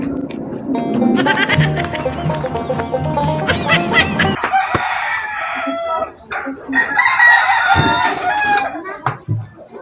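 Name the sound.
chicken crowing and clucking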